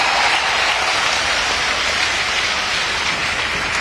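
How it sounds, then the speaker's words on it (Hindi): A crowd at an event in India breaks into dense, sustained applause, an even rain-like wash of clapping that stays loud and steady from start to finish with no talk over it. "और आपके हाथ की तालियां जरा हाथ उठाकर"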